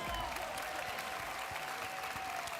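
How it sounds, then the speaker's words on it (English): Steady applause from an audience fills the clip, a dense continuous patter of clapping with no voices. "Let's give him a round of applause, please"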